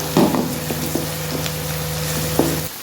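Onions are sautéed in a pan for egg fried rice, giving a steady close sizzle with a few light stirring scrapes and taps against the pan.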